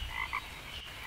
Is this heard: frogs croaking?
yes